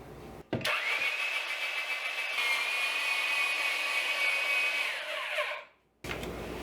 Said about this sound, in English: So I'm going to grate these up in my salad shooter here.